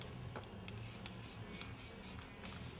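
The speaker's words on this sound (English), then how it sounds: "So I'm going to go ahead and spray the outer circle of that" An aerosol can hisses in a series of short bursts, about six quick sprays in a row, close by and fairly quiet.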